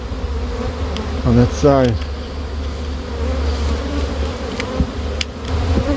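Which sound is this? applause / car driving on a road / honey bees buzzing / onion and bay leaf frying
honey bees buzzing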